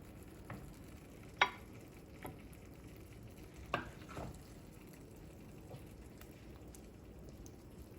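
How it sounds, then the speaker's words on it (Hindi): Eggplant bhurta sizzles faintly in a pan, a soft steady crackle with occasional louder pops and stirring scrapes spread across the moment, no talking. "देखें ज़रा, ज़बरदस्त सिजलिंग।"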